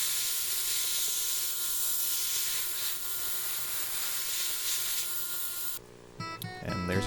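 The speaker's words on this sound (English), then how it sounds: "Over to the steam cleaner to get off any type of impurities on it." Steam cleaner blasting silver pendant pieces clean after casting and polishing, a steady loud hiss of steam running for several seconds before cutting off into clattering handling noises.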